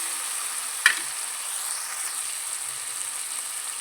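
Tomatoes frying with onions in a pan while a lentil kuzhambu gravy is cooked, giving a steady, soft sizzle throughout with one brief clink near the start.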